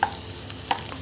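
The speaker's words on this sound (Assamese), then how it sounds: "ফ্ৰাই হৈছে আৰু।" Onions fry in a pan with a soft, continuous sizzle, broken by a couple of brief clinks from stirring.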